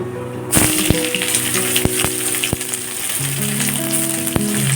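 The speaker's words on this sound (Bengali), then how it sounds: "আমরা খাবো বলে শুকনো লঙ্কা দিচ্ছি।" Dried red chillies sizzle in hot frying oil in a home kitchen, a loud, dense crackling hiss that starts abruptly, with scattered sharp pops and clicks of utensils throughout, no talking.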